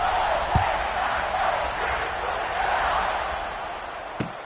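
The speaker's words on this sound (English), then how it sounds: "this crowd is feeling themselves after that last drive" A steady roar of a stadium crowd fills a football video game late in the fourth quarter, broad and continuous, with a couple of sharp thumps cutting through.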